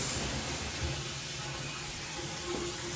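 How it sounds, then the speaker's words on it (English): Steady, fairly quiet rush of hot water pouring from a bathroom tap during a home inspection, a constant hiss with no voices and no change in flow. "make sure the hot water is working as well"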